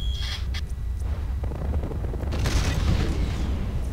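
Mech weapons in MechWarrior Living Legends fire with heavy, booming blasts and rumbling impacts that roll on through the whole stretch, loud and close, swelling near the end.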